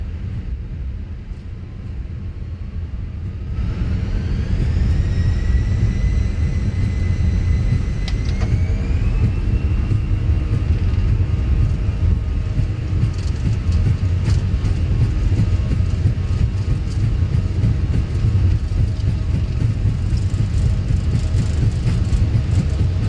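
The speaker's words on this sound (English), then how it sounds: "we're about to begin our departure. And it's going to be a flex takeoff today." Aer Lingus Airbus A320 in Microsoft Flight Simulator spooling up for a flex takeoff, engines rising in a whining pitch then a loud steady roar that fills the cabin, with rumbling as it builds speed, no talking.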